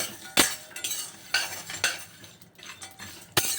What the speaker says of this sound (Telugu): పంప్కిన్ సీడ్స్, ఫ్లాక్స్ సీడ్స్ కూడా కొద్దిసేపు రోస్ట్ అయితే